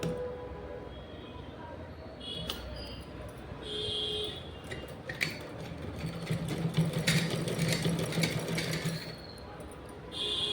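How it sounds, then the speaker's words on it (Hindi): Sewing machine stitching velvet fabric layered with buckram and lining for a small deity dress, running as a steady mechanical whir that builds and holds through most of the stretch, fairly close, with faint household background. "तो चलिए मैं आपको सिलाई करके बताती हूँ।"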